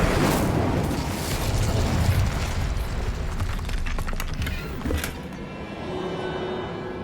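A fire spell cast in a fantasy video game erupts in a loud, rolling burst of roaring flame and booming crackle that fills the whole span, with several sharper pops partway through.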